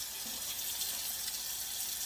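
Tap water runs steadily into a clean kitchen sink, a close, continuous splashing wash of sound with no voices.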